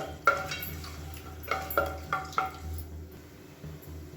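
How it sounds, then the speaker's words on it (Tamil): Whole spices frying in hot oil in a pan for a biryani lunch give a soft sizzle, broken by several sharp clinks and stirring scrapes that arrive in quick clusters, close by and with no one talking. "இப்போ எல்லாமே நல்லா பொரிய ஆரம்பிச்சிருச்சு."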